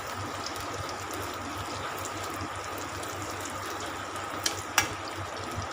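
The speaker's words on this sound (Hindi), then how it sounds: "हम इसे हाई फ्लेम में ही फ्राई करेंगे, इसके कलर चेंज होने तक।" Soya chunks frying in hot oil over a high flame give off a steady, even sizzle and hiss, with a couple of brief sharp crackles near the end.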